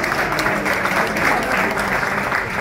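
Guests at an evening gala applaud together, a dense and steady wash of clapping that holds at an even level for the whole stretch, with no voices over it.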